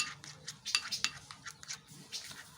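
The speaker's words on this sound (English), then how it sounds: "And after you're done mixing your face cream" Homemade whitening face cream stirred in a container, a quick run of scraping and clinking strokes from a utensil against the side, close and fairly quiet, with no talking.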